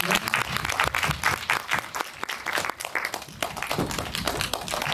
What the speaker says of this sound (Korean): 박수와 함께 보내드리도록 하겠습니다.